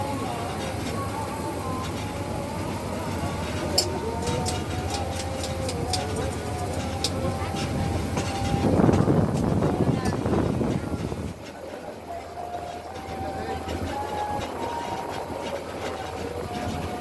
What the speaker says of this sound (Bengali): ট্রেন তো যাত্রাবিরতি দিচ্ছে পিয়ারপুর স্টেশনে